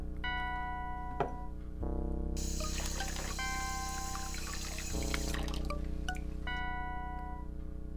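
Water pours into a glass in the horror video game Phantasmagoria, a steady trickling splash lasting several seconds over a droning, tonal game music bed.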